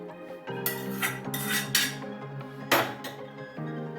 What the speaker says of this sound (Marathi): आपण काढून घेऊया दुसऱ्या भांड्यामध्ये थंड करायसाठी